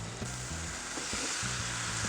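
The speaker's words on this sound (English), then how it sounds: "Oh, listen to it sizzle." Chicken and vegetables for fajitas sizzling on a PK360 grill, a loud, steady crackling sizzle with a faint repeating low hum underneath and no talk.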